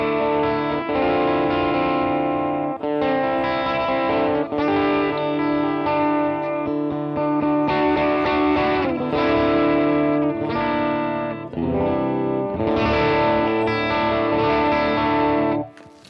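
Electric guitar played through a non-chimey effects tone, thick and distorted with chorus, strummed chords ringing in sustained blocks with brief gaps, loud and close, no talking.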